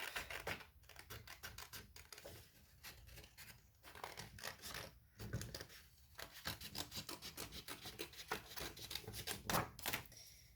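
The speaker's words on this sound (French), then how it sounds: "je vais venir la couper" Scissors snip and rasp through a small paper label during a scrapbooking craft for a Christmas chocolate box, a steady run of close, crisp cutting strokes with brief pauses.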